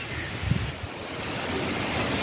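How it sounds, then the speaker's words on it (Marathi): Steady roaring wind buffets the microphone, a broad continuous rush with a few low gusty thumps near the start. "किती वारं सुटलं आहे"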